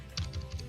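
Short burst of typing on a computer keyboard as a payment amount is entered, a few quick, close, soft key clicks in a quiet room.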